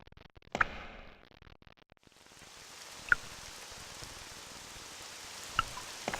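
Rain starts up in an RPG Maker horror game set in a school, a soft, steady hiss that swells in partway through, with a few faint ticks over it and no talking.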